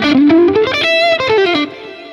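Loud, distorted electric guitar notes ring out, then the playing stops and echoing delay and reverb tails carry on, fading away.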